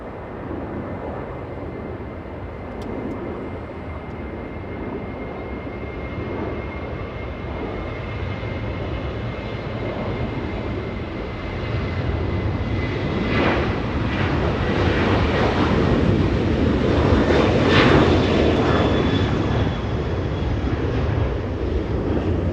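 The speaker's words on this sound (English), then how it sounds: "First of many getting a move on Southwest Airlines A737. Flying to Oakland" A Southwest Airlines Boeing 737 jet takes off at LAX for Oakland, a distant steady engine rumble building into a louder, broad roar with a rising whine toward the end, heard alone.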